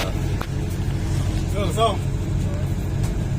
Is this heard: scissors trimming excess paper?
no